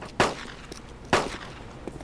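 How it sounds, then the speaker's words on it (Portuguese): Two sharp gunshots crack about a second apart in the video game Arma II DayZ mod, with fainter pops trailing after, heard close and alone. "Nossa, quanto tiro, cara."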